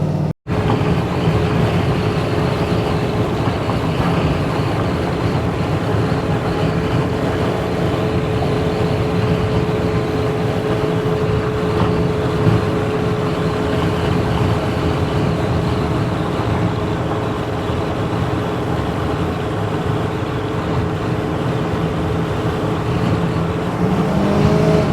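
LS-swapped 1968 Chevy cruising at highway speed from inside the cabin, a steady loud drone of engine and road noise holding for the whole stretch with only slight swells.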